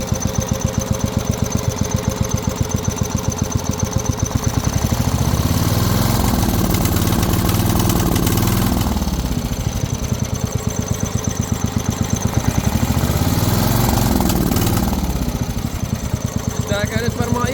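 Partner Caravan 12-100E riding lawn mower engine idling steadily with a rapid, even chugging pulse, loud and close, briefly swelling in pitch mid-clip while a voice talks over it.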